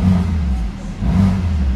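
A 2024 BMW M2 engine revs close by, a deep throaty rumble that rises, dips briefly and climbs again in a short burst.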